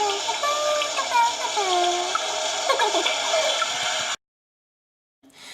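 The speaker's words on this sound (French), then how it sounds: "Et la douche qui fait aussi du bruit quand on appuie sur le parterre." Running water from a toy dollhouse shower hisses steadily for about four seconds with a voice chattering over it, then it cuts to silence before faint noise returns.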